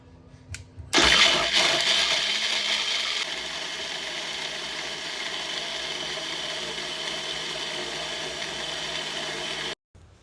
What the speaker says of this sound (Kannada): ಈ ಕೊಬ್ಬರಿ ತುರಿನ ಮಿಕ್ಸರ್ ಗ್ರೈಂಡರ್ಗೆ ಹಾಕ್ಕೊಳ್ತಾ ಇದ್ದೀನಿ